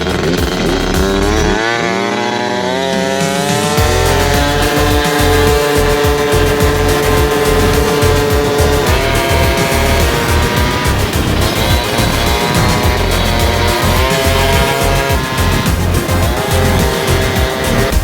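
Several vehicles built for Baja running side by side at a steady cruise, a loud continuous engine drone with shifting harmonic tones throughout, no talking.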